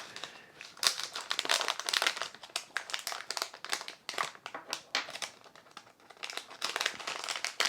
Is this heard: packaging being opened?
yes